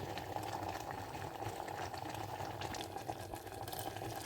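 Salted water bubbles at a steady rolling boil in a pot for Andhra-style pappu charu, a continuous soft gurgling hiss close by, with no voices.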